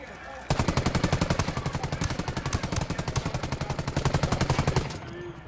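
Automatic gunfire in the video game Ghost Recon Wildlands: one long, loud, rapid burst of evenly spaced shots lasting several seconds, then it stops abruptly.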